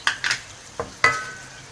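Whole red chillies hit hot oil in a pan for kadhi, giving a few sharp sizzling crackles and light metallic clinks from the spoon, spaced out over a couple of seconds and fading between bursts.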